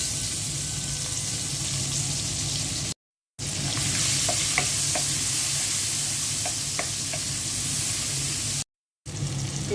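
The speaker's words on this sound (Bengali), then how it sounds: "মাছ ভাজা তেলের মধ্যে পেঁয়াজ দিয়ে দিচ্ছি" Onions hiss and crackle in hot oil left over from frying a hilsa fish head, a steady close sizzle with occasional stirring scrapes and pops, heard alone.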